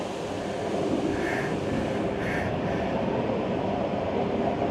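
A brand-new Russian Ivolga 4.0 commuter train pulls away from a platform with a steady loud rumble of wheels and motors and a couple of faint squealing tones, heard close and continuous with no talking.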